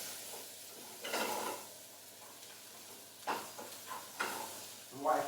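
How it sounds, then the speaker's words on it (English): Cilantro being stirred into leftover biryani and saag aloo in a pan, with soft scraping stirs and a gentle sizzle in short bursts, close by, with a voice briefly talking. "Pinch of cilantro in there. That's it. Give it a little stir around."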